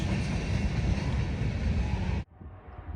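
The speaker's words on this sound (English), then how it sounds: "Eastbound manifest next up. 2 GEs on the head end and another is a DPU at the back." A Norfolk Southern eastbound manifest freight train, led by two GE locomotives with a distributed power unit at the rear, rumbles past loudly and close before the sound drops off abruptly to quiet.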